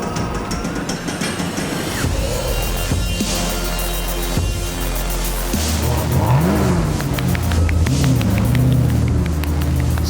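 A cheap supercar's engine, running rough and slightly rich, drones loudly while driving, with shifting revs and rising and falling pitch as it accelerates.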